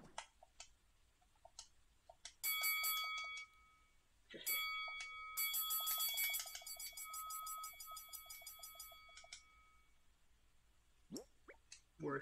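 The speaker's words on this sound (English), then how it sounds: "Does this bell go ding?" Animal Crossing New Horizons game sounds: soft clicks and drips, then two bright, ringing chime passages from a bell, the second longer and sustained, quiet and alone without talk.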